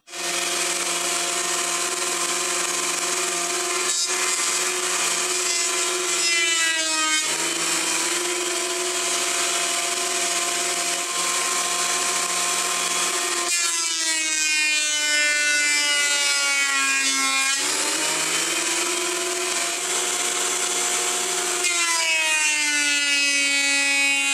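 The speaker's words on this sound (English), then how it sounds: "we should be able to run this through the planer and get a perfectly flat surface on top" Wood on a planer sled feeds through a thickness planer, making a loud, continuous motor whine with a cutting roar that rises and shifts in pitch as the board passes. The sound is steady with no talking.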